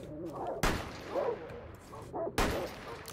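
Two sharp, loud gunshot bangs in the video game Rainbow Six Siege, roughly two seconds apart, with voices talking in between.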